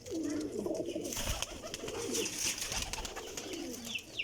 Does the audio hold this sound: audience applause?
no